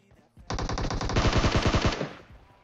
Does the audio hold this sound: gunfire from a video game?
yes